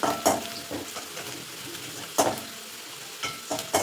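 Onions fry gently in a kadhai, a soft continuous sizzle punctuated by a few sharp scrapes and knocks from a stirring spoon, close and fairly quiet.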